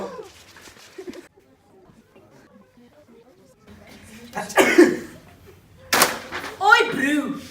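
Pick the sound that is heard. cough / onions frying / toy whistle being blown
cough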